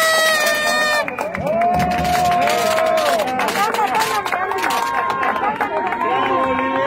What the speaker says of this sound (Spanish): Un fuerte aplauso para esa líder de Área Nueva, Andrea Segura.